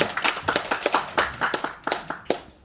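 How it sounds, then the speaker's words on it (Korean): Scattered, distinct hand claps from a modest forum audience at a Jeju discussion event, individual claps audible rather than a dense roar, thinning out and stopping near the end. "박수 좀 부탁드리겠습니다."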